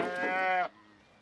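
A single long cow moo from beef cattle on a farm, loud and close, with a rich harmonic low call that holds steady for about half a second, then cuts off into quiet outdoor background.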